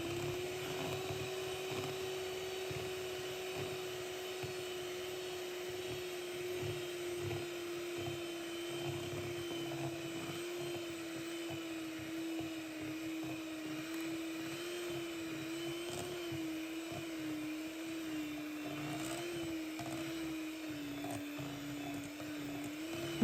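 An electric whisk beats apple cake batter in a bowl, giving a steady, continuous high motor whine with a slight pitch drift that runs alone throughout.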